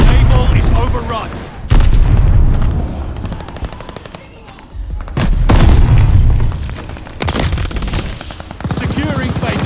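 Mortar shells burst in a sniper shooter game, with deep booms and rolling blasts layered over steady gunfire, loud and continuous, with a brief lull partway through.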